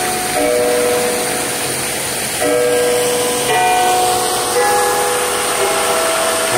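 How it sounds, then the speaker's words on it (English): A bell rings out in repeated sustained tones near a fountain, steady and fairly loud over constant rushing water and outdoor noise, with no talking. "Bell's going off, you might be able to hear that."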